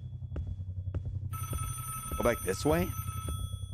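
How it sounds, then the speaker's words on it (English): A telephone rings in a video game, its bright electronic bell tones repeating steadily through the second half over game background noise, while a voice talks over it. "that phone is still ringing"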